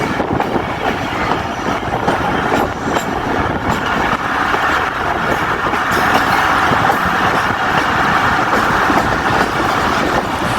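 The Jaffar Express passenger train rolls steadily along the track through the Bolan Valley in Pakistan, a continuous loud rumble with rhythmic rattling of wheels and carriages throughout, no voices.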